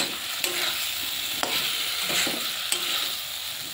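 Fried potatoes being stir-fried with salt in a hot pan, an even, close hiss of sizzling with a few sharp spatula scrapes and taps at intervals, no voices.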